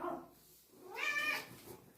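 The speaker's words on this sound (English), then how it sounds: "Let's look at the cat." A cat gives a close, drawn-out meow in a quiet room, with a softer vocal sound just before it.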